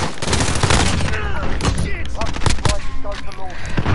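Dense gunfire in Modern Warfare sounds as rapid, loud automatic bursts with overlapping shots and clatter, close and sustained, with voices talking faintly underneath.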